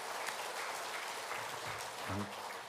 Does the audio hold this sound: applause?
yes